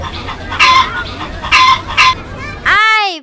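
A hen clucks in short bursts of three or four calls, close and clear, followed by a sharper rising squawk at the end with no talking over it.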